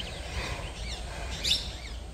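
Parakeets in a forest enclosure at Bethuadahari in Nadia give faint, scattered high chirps over a steady outdoor hiss, with one slightly louder call near the end.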